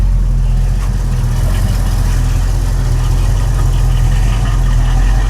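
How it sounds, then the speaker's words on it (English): A warmed-up 1989 Chevrolet S10 pickup with a V8 idles at about 700 RPM, a loud, steady low rumble that holds throughout with no other sounds. "Got her warmed up a little bit, sitting at about 700 RPMs at idle."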